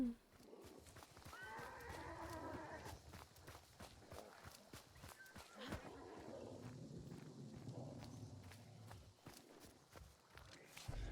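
Horse in the video game Hunt, with hooves clopping and footsteps pounding over uneven ground, plus snorting and whinnying amid scattered game noises, fairly near and moderately loud, with a voice speaking briefly at times.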